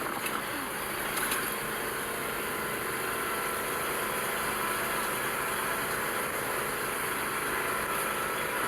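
A John Deere zero-turn mower engine runs steadily at the start of a long cemetery mowing job, a constant droning roar with an even hum and no pauses.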